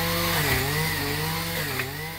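A Husqvarna MADSAW dielectric pole saw cuts through tree limbs, its motor giving a steady buzzing whine that dips and rises in pitch as the chain bites into the wood, close and alone for about two seconds.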